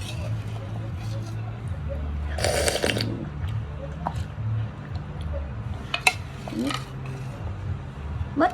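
A spoon clinks against a bowl a few times while scooping Korean-style boiled noodles to eat, faint and brief against a low background hum, with people talking nearby.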